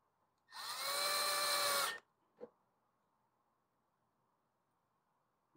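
A power screwdriver drives a screw into a Briggs & Stratton E series mower, one steady whirring burst of about a second and a half, then a short click, in an otherwise quiet space.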